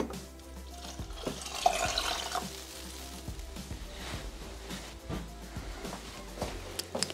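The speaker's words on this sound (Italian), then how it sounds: "Aggiungere l'acqua" Water poured into a Thermomix bowl for a zucchini and saffron risotto, a continuous splashing trickle with small drips and clicks throughout, close and moderately loud.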